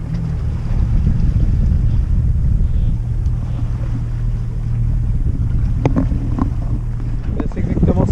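Wind at sea on a sailboat crossing toward the Aeolian Islands: a steady broadband rush of wind and water over a low engine hum, close and continuous, with occasional creaks and knocks.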